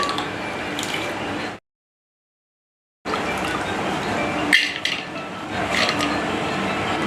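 Lentils poured into a small pressure cooker in a hill village kitchen, rattling and scraping close by in bursts, broken by a silent gap and followed by more clattering.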